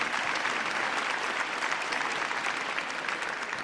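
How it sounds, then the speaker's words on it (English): An audience claps in sustained applause at a civic event in Philadelphia celebrating plans for America's 250th anniversary, a dense, even wash of many hands lasting the whole stretch without speech. "Let's give a round of applause to Visit Philadelphia"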